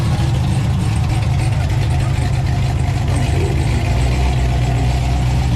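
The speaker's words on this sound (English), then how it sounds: "that is a V Cadillac, and that thing is, if you can hear it is rumbling, and it is stout" Cadillac CTS-V V8 engine idling with a deep, steady rumble, loud and close, a continuous low throb lasting throughout with no break.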